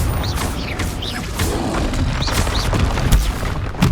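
Confringo fire spell blasts in Hogwarts Legacy combat, a dense, loud stretch of booming impacts and whooshes with sharp magical chirps layered through continuous game noise.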